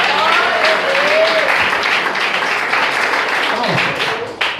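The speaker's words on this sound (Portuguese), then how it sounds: "receba palmas da glória de Deus" Applause from a church congregation for a young person, a dense steady wash of clapping lasting several seconds, with voices and some shouting mixed in.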